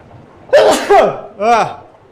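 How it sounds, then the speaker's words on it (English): A single close, sharp sneeze bursts out, followed by a brief voiced sound right after. "gotta sneeze."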